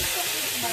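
Mustard seeds sizzling in hot oil for tempering a Bengali hilsa fish dish, a brief, close, steady hiss of frying with faint speech beneath it.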